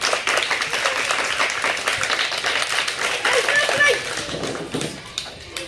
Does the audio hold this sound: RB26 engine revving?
no